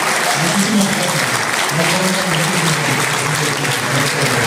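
An audience at a student federation ceremony in Morelos gives sustained, loud applause, an even wash of clapping with a voice talking over it throughout.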